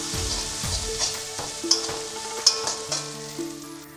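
Ground cumin and turmeric fry in hot oil, making a close, continuous sizzle with a few scraping taps from stirring, for a dish of small hilsa fish curry.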